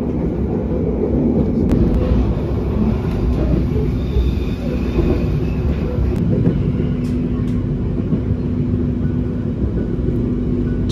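The KA Harina passenger train runs through hilly countryside near Sukatani station between Padalarang and Bandung, making a loud, unbroken rumble of wheels and carriage noise with faint squeals on top.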